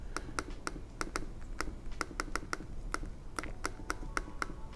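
A Surface Book 3 trackpad clicking, a run of sharp, crisp clicks close by, quick and slightly irregular, some in rapid pairs, over a quiet background.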